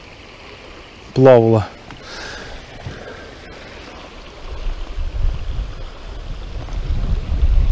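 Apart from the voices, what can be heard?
river water burbling over a riffle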